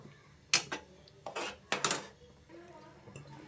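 A spoon stirs cardamom powder into bottle gourd kheer in a metal pot, giving a few close scraping strokes and light clinks against the pan amid quiet background.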